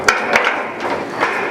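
Wrench working on metal pipes, a few close metallic knocks and scraping clanks at uneven intervals, moderately loud.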